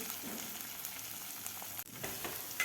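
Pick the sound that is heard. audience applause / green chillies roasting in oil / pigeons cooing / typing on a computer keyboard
green chillies roasting in oil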